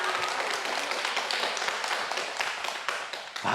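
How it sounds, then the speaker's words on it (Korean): Sustained applause and clapping from an audience at a Korean interview event honoring the principal of Ulsan's oldest night school, dense and steady throughout without a break. "박수 한번 보내주세요."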